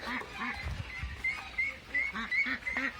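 A young duck quacks in a run of short, repeated calls, fairly near, with a few low background thumps.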